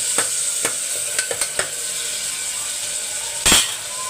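Peas and tomato are stirred in a hot cooking pan, with a soft sizzle under a few sharp scrapes and clinks of the spoon against the pan, close and brief.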